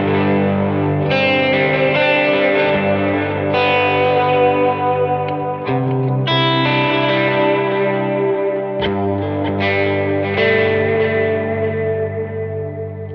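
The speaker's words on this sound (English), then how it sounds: "Since I have this brand new Night School Catalan Bred overdrive" Electric guitar played through a Night School Catalan Bred overdrive pedal, loud and up front, with sustained distorted chords and notes ringing under a wash of echo and chorus-like shimmer, no talking.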